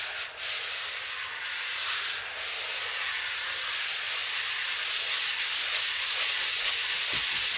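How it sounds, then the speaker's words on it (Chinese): Sandpaper rubbing along a metal rail from a hardware store, used as a camera dolly track; steady close scratchy strokes with a continuous hiss, no speech. "所以我就要额外用砂纸来进行打磨。"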